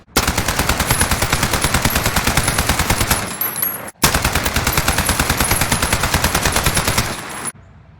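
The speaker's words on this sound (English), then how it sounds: "I'll show you the recoil of the base AN-94 and then versus the recoil of my AN-94 class" AN-94 rifle fired in a video game in two long continuous full-auto bursts, loud, rapid and evenly paced, with a brief break between them.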